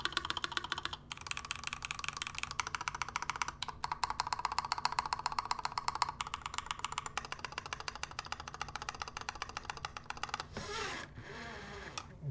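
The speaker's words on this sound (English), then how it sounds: "this PBT spacebar on this does not sound good" Close typing on a mechanical keyboard fitted with a PBT spacebar, a fast continuous patter of clacky keystrokes with deeper spacebar thocks mixed in, quiet and steady. A brief shuffling handling sound comes near the end.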